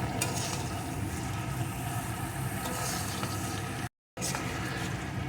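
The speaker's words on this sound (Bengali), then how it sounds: "এখন আমি মিডিয়াম টু লো আছে এইভাবে নাড়িয়ে নাড়িয়ে রান্নাটা করে নেব" Potato and pointed gourd frying in a pan over medium-low heat, a steady close sizzle with scraping stirs throughout, briefly cut off near the end, with no talking.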